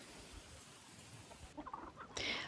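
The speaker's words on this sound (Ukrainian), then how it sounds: "В цьому році у мене кури Мастер Грей" Master Grey chickens cluck softly a few times, close by but faint, against quiet background noise.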